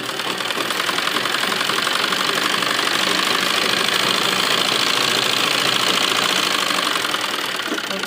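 An electric sewing machine runs steadily, double-stitching the seams of a lined suit, its rapid needle chatter and motor hum continuous and fairly close throughout with no pauses.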